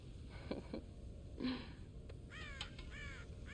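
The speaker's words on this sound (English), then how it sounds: "God damn crows!" Crows cawing in the video game Red Dead Redemption, several harsh calls at middle distance, a few early single caws, then a quick run of repeated caws near the end, over a quiet outdoor ambience.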